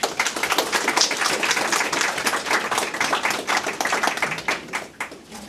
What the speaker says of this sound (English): Round of applause to his kind remarks.